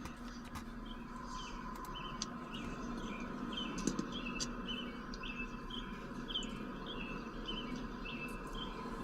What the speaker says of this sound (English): I like hearing the birds in the background.